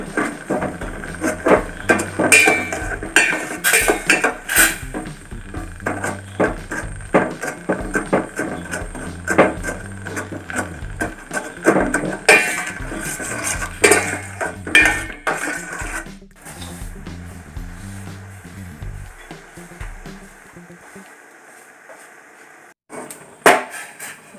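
Jaggery lumps are crushed in a metal pot for rice ball snacks, giving dense, irregular clanks and scraping knocks close up that continue for about twenty seconds before thinning out into a few last taps.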